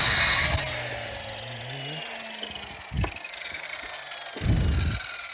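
A power saw cuts a boardwalk board for a landscaping project: a short, loud burst of cutting, then the blade whines as it winds down, with a couple of dull thumps from the board being moved.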